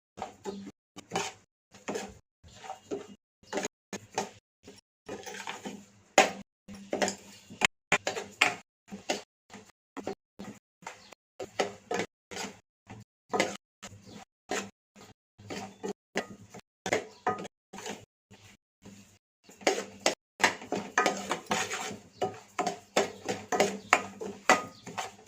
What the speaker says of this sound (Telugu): గోల్డెన్ బ్రౌన్ కలర్ వచ్చేంత వరకు కూడా రవ్వ మంచిగా కలుపుతూనే ఉండండి.